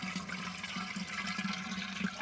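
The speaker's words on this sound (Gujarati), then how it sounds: "હું વાલ ચાલુ કરીને પાણી ભરી રહી છું માટલામાં" Water gushes from an opened tap valve into a clay pot, a steady rushing flow heard close and fairly quiet, with no talk.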